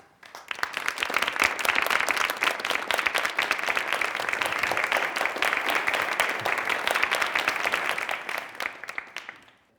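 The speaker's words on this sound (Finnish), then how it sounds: "Toivotetaan seuraava puhuja taas aplodien saattelemana tervetulleeksi." Sustained audience applause welcoming the next speaker at a talk event, dense steady clapping from a crowd lasting nearly ten seconds before fading out.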